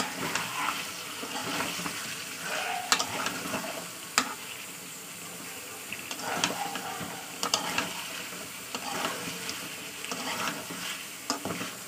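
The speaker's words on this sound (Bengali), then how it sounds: "এবার মটরশুঁটি দিয়ে দিচ্ছি, আবার একটু কষিয়ে নেবো" Chicken curry with peas being stir-fried in spices, a continuous sizzle with repeated scraping and stirring knocks from the pan, fairly close and steady throughout.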